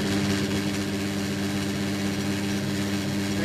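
A small engine runs steadily after being started and put in gear, a continuous droning hum with a low harmonic buzz, close and constant with no talk.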